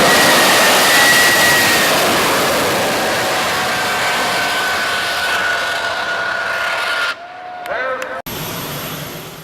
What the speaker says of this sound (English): we will stick around for the unveiling of this beautiful new jet dragster